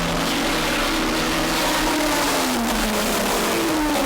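Race cars roar past on a racetrack, one loud, continuous engine howl whose pitch sweeps down as it goes by, with no voices over it.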